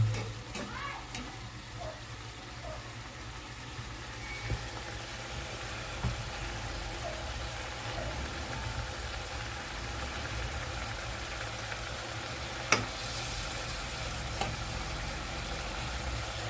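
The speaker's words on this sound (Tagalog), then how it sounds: "Pakuluan lang po muna natin ng pakuluan mga kaibigan. Hanggang sa kumunti na ang kanyang" Lechon paksiw simmers in a pot as its broth reduces, a low steady bubbling hiss with faint occasional clinks, quiet and continuous for the full stretch.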